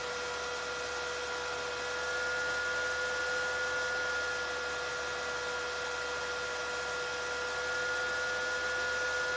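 A strong electric cooling fan runs steadily on a DIY workbench, giving a constant broadband whoosh with a couple of steady tonal hums, unchanging and fairly loud for the whole stretch with no talk.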